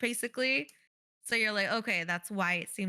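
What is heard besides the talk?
No everyday noises stand out.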